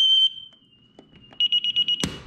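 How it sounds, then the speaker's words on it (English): A high electronic tone from a DSC Impassa security alarm sounds, then beeps in a quick series of rapid pulses, followed by a sharp clatter at the end. "Oh, there goes the alarm."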